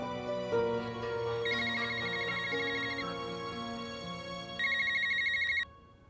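An electronic phone ringtone trills in two separate bursts over a steady background hum.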